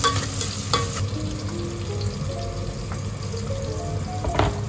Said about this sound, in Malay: boleh tumis bawang Holland dan daun bawang bahagian bawah